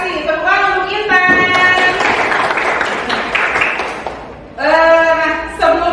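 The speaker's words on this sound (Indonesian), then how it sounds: "Tepuk tangan untuk Intan." Students applauding in a classroom, a burst of many hands clapping for a few seconds, with voices talking before and after it.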